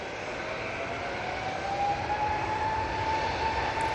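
A Loganair airliner arrives at Manchester Airport, its engines producing a steady, moderately distant roar with a thin whining tone rising slightly in pitch, continuous and alone without talk.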